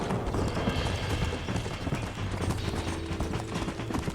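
A horse gallops hard in the Red Dead Redemption video game, its hooves drumming in a fast, dense, continuous rhythm over a busy background mix.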